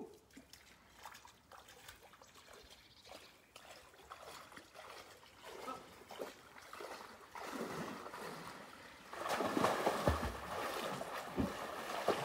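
A person wades into the water of a lake, Seeburger See, with soft trickling and sloshing that builds into louder, steadier splashing toward the end, close by with no talk.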